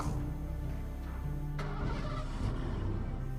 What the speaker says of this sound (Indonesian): Kok kayak suara mobil bokap?